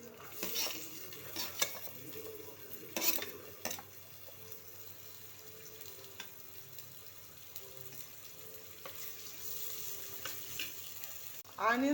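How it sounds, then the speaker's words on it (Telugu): Mustard seeds, cumin and chana dal fry in hot oil in a pan, a soft steady sizzle with scattered crackles and a few louder clinks of a spoon stirring against the pan. "ఆవాలు చిట్పట్ అని వేగిన తర్వాత కొంచెం ఆనియన్స్"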